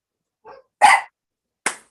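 A dog barks during a city council workshop meeting: a soft yip, then a loud, close single bark and a shorter second bark, with quiet between.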